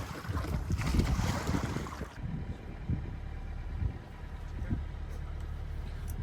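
Sailboat motoring along the west coast of Meganisi, Greece: a steady engine and hull rumble under gusty wind buffeting the microphone, loud at first then easing, with no talk.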